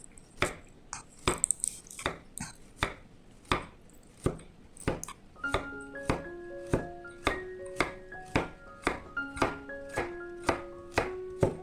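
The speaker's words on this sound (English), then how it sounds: "For the carrots, just cut 5 lengthwise grooves and then cut it in crosswise into half cm thick discs" A knife cuts a grooved carrot crosswise into half-centimetre discs on a board, giving a steady run of crisp, close chops, about two per second, alone and unaccompanied.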